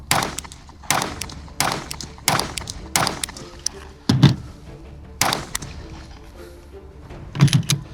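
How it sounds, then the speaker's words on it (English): OSIGHT S micro red dot optic repeatedly banged on a table, producing a series of sharp, loud knocks and thuds at irregular intervals, close to the microphone, with a few heavier double impacts. "I'm banging the OSight on the table there"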